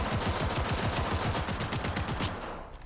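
Sustained fast automatic gunfire in Cyberpunk 2077, a loud close stream of rapid shots that carries on for over two seconds before cutting off, with no voices.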